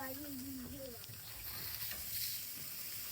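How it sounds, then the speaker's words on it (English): Steaks sizzle on an outdoor barbecue, a constant bright hiss of searing meat that runs throughout, with a brief whistly tone near the start and no talking. "Listen to that sizzle."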